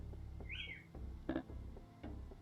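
A video game plays a single bright bird whistle, a short rising-falling chirp, followed by faint soft clicks and chirps in a quiet background.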